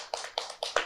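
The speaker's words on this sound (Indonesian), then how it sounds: "Tepuk tangan." Four or five quick, crisp hand claps in under a second, close and fairly quiet, sounding like a small group or single person starting applause.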